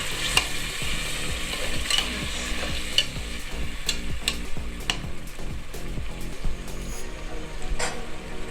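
Spices for pilau rice stirred in a hot pan with soy sauce, a steady close sizzle broken by repeated scraping strokes of the spoon.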